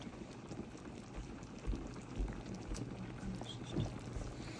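Meatball soup simmers in a pot, a steady low bubbling and gurgling that runs evenly throughout at moderate loudness, with a few slightly louder pops and no talking.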